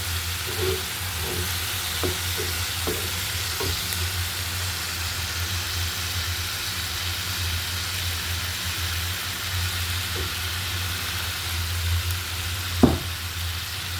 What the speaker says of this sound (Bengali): মশলাটা আমি সুন্দর করে কষিয়ে নিলাম